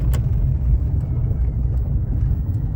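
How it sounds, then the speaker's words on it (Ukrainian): A 2007 Chery QQ drives over a rough, potholed road, heard from inside as a low, continuous rumble with occasional knocks and rattles from the suspension. "Їдемо по хорошій танковій дорогі, щоб зразу провірити ходова, гримить, не гримить"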